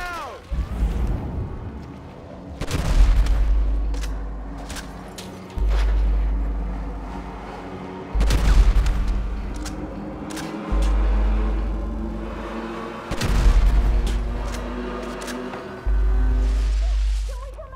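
Several heavy booming explosions in Grand Theft Auto V, a grenade blast among them, each a sharp loud burst trailing into low rumble, spaced a few seconds apart over a continuous drone of action sounds.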